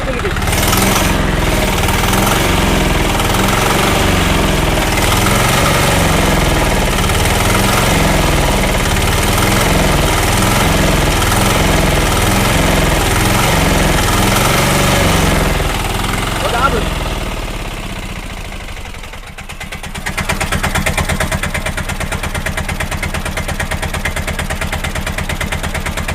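A Bajaj diesel auto rickshaw engine idles steadily with a loud, rhythmic mechanical chugging close by, briefly dipping near the end before settling back to the same knocking beat.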